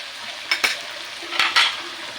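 Corned beef sautéing in a pan for breakfast, a steady close sizzle with a few sharp scraping stirs of a utensil against the pan, no talking.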